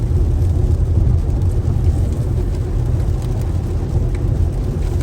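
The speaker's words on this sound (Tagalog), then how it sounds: "malakas ang ulan" Heavy rain pours during a storm in San Diego, a loud, dense, continuous roar of downpour with wind, no voices, steady throughout.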